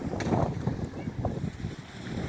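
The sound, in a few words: strong wind and waves at a harbour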